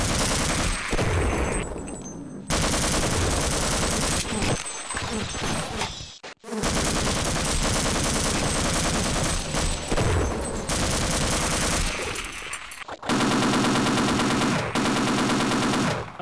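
Tank weapon firing in Half-Life, a loud, continuous hammering of rapid gunfire in long sustained bursts, broken by brief pauses, close and dominant with no talking.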